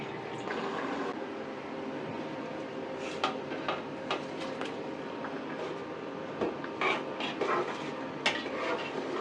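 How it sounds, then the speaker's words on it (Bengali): Broth and rohu fish tip into a pan of curry with ridge gourd, giving soft splashes, a low simmering bubble and scattered clinks of a spoon against the pan, close and fairly quiet. "এখন আমি ঝোল আর মাছ একসাথে দিয়ে দিব।"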